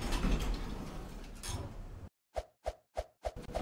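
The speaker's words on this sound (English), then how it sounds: "Door closing." Mitsubishi lift doors closing in a Roblox hotel car park, a busy blended noise that cuts off abruptly, followed by four evenly spaced soft clunks, close and without talk.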